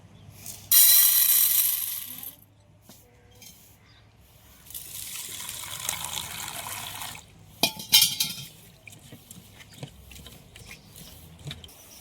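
Toor dal (pigeon pea lentils) is rinsed in water, giving intermittent sloshing and splashing with light clinks of a vessel, loud at first and then quieter and scattered.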